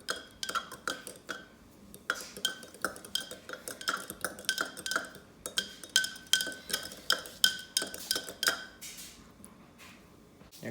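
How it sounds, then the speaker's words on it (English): A spoon stirs dry yeast and warm water in a jar for pizza dough, with rapid rhythmic clinks and taps against the glass, fairly close and steady throughout. "Give it a stir."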